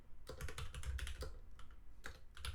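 Computer keyboard typing with quick, uneven clusters of light clicking keystrokes, close and quiet, with no voices.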